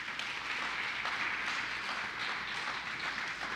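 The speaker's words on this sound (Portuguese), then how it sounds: "Você pode dar um aplauso a Jesus aí?" A church audience gives applause for Jesus during a preached message, a soft, distant, continuous patter of clapping with no clear voices over it.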